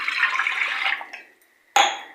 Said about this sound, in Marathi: त्याच्यात मी 1 ग्लास पाणी ओतते